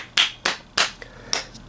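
Four sharp hand claps, spaced unevenly and fairly close, each a crisp bright smack with a short ring, plus a faint tap between them.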